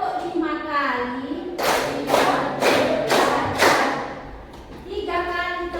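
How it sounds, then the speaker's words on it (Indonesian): Five loud, evenly spaced group claps ring out in a classroom, with speech before and a murmur of voices after. "Tepuk lima kali."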